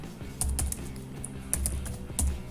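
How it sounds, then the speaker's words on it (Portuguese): Someone typing a command on a computer keyboard while logged into a server, heard as a few clusters of crisp, close key clicks in quick bursts against a low background hum, with no talking. "agora aqui no sistema, já logado no seu servidor, você vai digitar o comando sudo"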